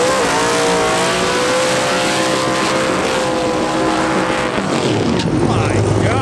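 A stock 2018 Ford Mustang with an MT82 manual gearbox roars at a drag strip, a loud, close, sustained engine drone with rising revs that shifts and drops toward the end, voices audible beneath it.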